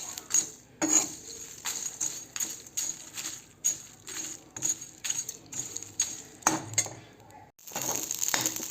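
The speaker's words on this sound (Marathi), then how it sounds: "आता हा जो मसाला आहे तो भाजून घेऊयात" Masala spices dry-roasted in a home kitchen pan, close by: a utensil scrapes and clinks against the metal again and again in an uneven stirring rhythm.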